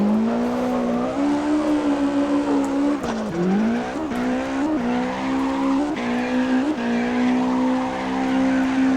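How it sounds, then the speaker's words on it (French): A car drifting in the CarX Drift Racing game, its engine droning steadily under long tire squeal and skidding, with brief dips and surges as the car slides through a corner; loud and close, no voices. "comme vous avez entendu, j'ai fait masse de frein à main."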